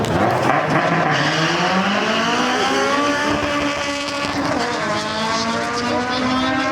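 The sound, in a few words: Honda RSX racing and beating an American car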